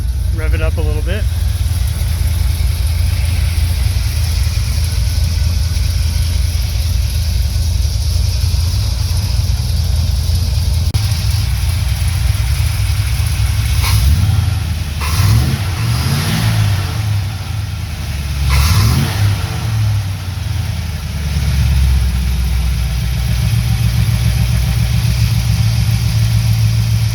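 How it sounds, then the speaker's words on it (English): A 1978 Ford Bronco custom with a single-tip muffler, its engine idling loud and close, then revved a few times in rising surges before settling back to a deep rumble. "Now I'll come up here and rev it up a little bit."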